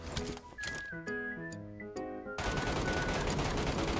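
An MK14 rifle fires while scoped in a shooting video game. Ringing tonal notes come first, then a loud dense run of gunfire fills the final second and a half.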